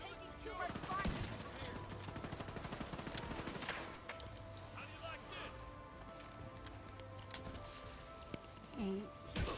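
Incoming gunfire in The Division 2 arrives as dense rapid bursts of shots, loud and close, followed by scattered single cracks and other game effects.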